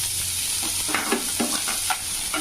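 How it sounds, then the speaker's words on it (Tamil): Chopped onions sauté in oil with a constant sizzle, while a spoon scrapes and stirs the pan in quick repeated strokes, close and clear. "வெங்காயம் நல்லா வதங்கிட்டுங்க."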